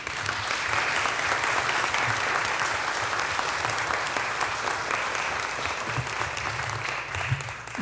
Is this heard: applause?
yes